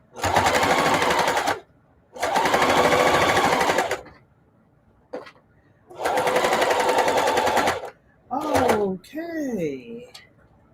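Sewing machine stitching a denim journal cover made from upcycled old jeans, running in three long loud bursts with short pauses between, followed by brief quieter handling sounds and a voice.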